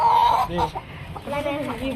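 Clucking from a chick standing on its feed while eating, among domestic fowl and turkeys, a steady run of close, moderately loud clucks with a brief dip midway.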